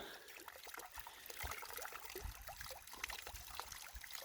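Water trickles and splashes into a farm sprayer pump tank, a quiet, continuous dribbling flow with small irregular splatters and no talk.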